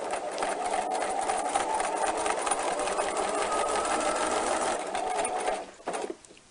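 A sewing machine runs a steady, fast, even stitching burr as it topstitches a second line along a trouser hem, loud and close, then stops near the end with a few small clicks.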